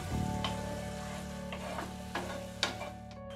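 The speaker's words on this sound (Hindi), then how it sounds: "कम से कम 2 से 3 मिनट के लिए एकदम लो फ्लेम पे इस टमाटर को पहले हम पकाएंगे" Ground tomato cooking in a pan on a low flame, with a faint, soft bubbling sizzle and a few light stirring clicks over a steady low hum, close but quiet.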